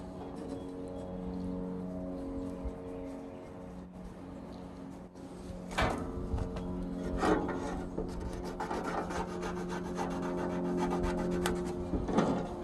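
Pencil drawing an outline around a car engine part on paper wrapped around it, a soft, close scratching and rubbing that continues steadily with small knocks, over a low steady hum.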